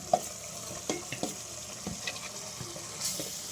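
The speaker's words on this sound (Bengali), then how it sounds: "তো আমাদের মাংসগুলো আমি দিয়ে দিলাম।" Pieces of chicken meat drop into a pan with tomatoes and start frying, a soft sizzle broken by scattered clinks and knocks of stirring, fairly quiet and close, with no voices.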